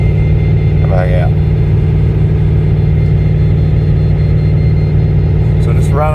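A Holden VZ with an LS1 V8 runs steadily on a dyno, a loud, constant low engine drone filling the whole stretch, with a couple of brief voices cutting in near the start and end.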